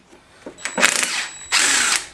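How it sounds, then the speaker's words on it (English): A power gun spins off a 15mm nut on a Ford Mustang GT rear shock mount in two loud, close, rattling whirring bursts, the first ragged and brief, the second steadier; nobody speaks. "this nut here on the standard mount is 15mm, so we should be able to get that undone with the gun"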